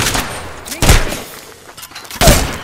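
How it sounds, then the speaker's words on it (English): Gunfire in the battle royale video game Apex Legends: two loud, sharp shot bursts close by, with scattered fainter shots and rumble between them. "Listen up, I'm getting shot back!"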